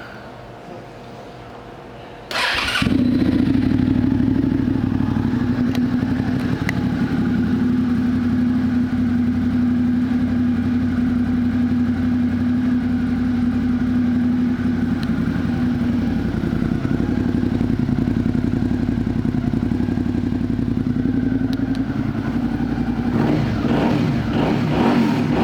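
A 2009 Suzuki Gladius motorcycle engine starts after a brief quiet moment, then idles loud and steady at close range for over twenty seconds, with a short rev near the end and no talk.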